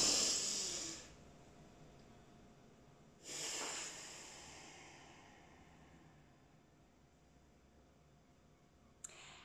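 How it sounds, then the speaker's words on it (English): Two big breaths in and out through the nose, each a loud, airy rush of roughly a second, spaced a few seconds apart, followed by quiet and a small click near the end. "5 big breaths through our nose"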